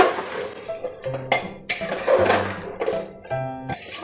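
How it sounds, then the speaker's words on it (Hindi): Spices being stirred into mutton in a metal cooking pot, with a spoon scraping and clinking against the pot in irregular bursts, close and moderately loud. "और अब दोस्तों मसाले को अच्छे से मिक्स कर लेंगे।"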